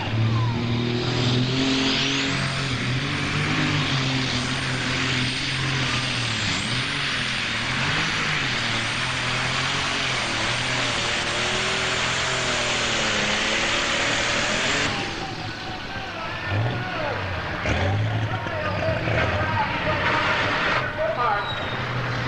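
A powerful 1998 pulling tractor engine roars loudly and continuously at a tractor pull, its pitch rising and falling, while an announcer talks over it; the roar eases toward the end.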